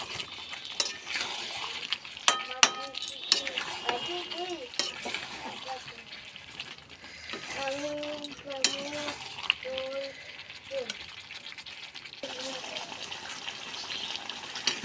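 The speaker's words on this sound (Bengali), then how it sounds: "এবারে দিয়ে দেবো ধনেপাতা কুচি। ভালো করে একবার নাড়িয়ে দেবো।" Chicken curry with chopped coriander is stirred in a pan on the stove, a spoon scraping and clinking against the metal over soft sizzling, with a voice talking intermittently in between.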